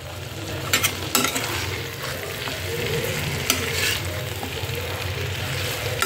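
Meat curry being stirred as it cooks in a kadai, with a constant loud sizzle under repeated scraping and clattering strokes of a spoon against the pan.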